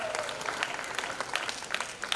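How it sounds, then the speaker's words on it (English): Audience applause at an Academy of Hospitality & Tourism event, a steady even patter of many hands clapping at moderate level for the whole stretch. "Let's give them a round of applause."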